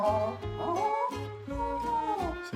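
A dog whimpers in drawn-out, wavering whines broken by short, low barks, close and fairly loud, with no other sound competing.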